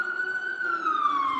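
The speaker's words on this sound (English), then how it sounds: "let's just wait for this siren to go down. Very, very busy street." A siren on a very busy street, wailing steadily with a slow downward slide in pitch, heard moderately close against faint traffic noise, with no talking.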